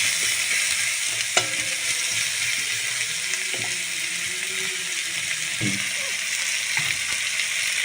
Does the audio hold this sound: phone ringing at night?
no